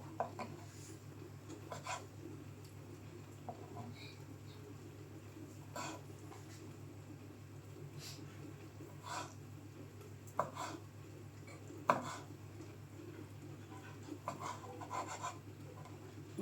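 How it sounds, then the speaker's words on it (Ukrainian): A knife slices boiled hearts into thin julienne strips on a cutting board, giving soft, irregular rasping strokes and light taps over a low steady hum; faint and close, with no talk. "Так будемо нарізати на соломку."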